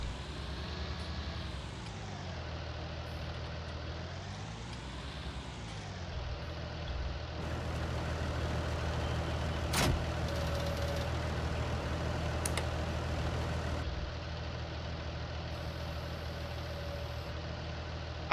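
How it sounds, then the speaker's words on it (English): Tractor engine in Farming Simulator 19 turning over and settling into a steady, loud idle drone, with low rumbling tones that swell and shift before holding constant, plus a few sharp clicks; no voices. "Fire up our tractor here."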